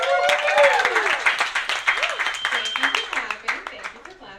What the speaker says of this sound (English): you for clapping.